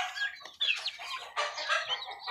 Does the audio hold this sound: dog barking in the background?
no